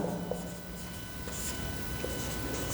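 Marker or chalk strokes on a classroom board as a circle's diameter term is written, soft scratchy scraping with a few brief ticks, faint and steady, no voices.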